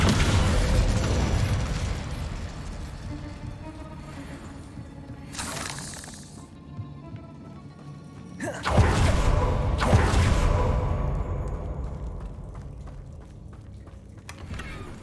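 Spell effects in Hogwarts Legacy, a fifteen-second run of loud magical bursts, shattering blasts and whooshing crackles in waves, with two sharp booming surges partway through.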